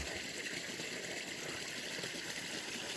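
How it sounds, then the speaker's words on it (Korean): A mountain stream in Bukhansan rushes steadily and softly, a constant broad hiss of water flowing over rocks, with no other sounds standing out. "물소리가 너무 정겹게 느껴졌다."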